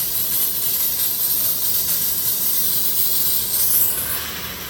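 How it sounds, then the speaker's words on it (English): A steam cleaner hisses continuously and loudly at close range as hot steam blows out, softening slightly at the end. "Okay, see how hot steam coming out?"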